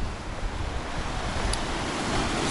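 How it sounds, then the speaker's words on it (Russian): Stormy sea surf on the Sochi shore, with waves washing in as a steady loud roar of broadband noise, buffeted by wind against the microphone, no voices. "Не пойму, докуда бьет волна, но мне кажется, она прям куда-то сюда добивает."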